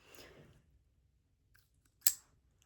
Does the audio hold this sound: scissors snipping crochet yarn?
yes